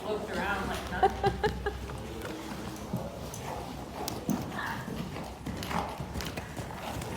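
Horse hooves clip-clop in a rhythmic, moderately distant pattern during training, mixed with soft background rustle and occasional voices.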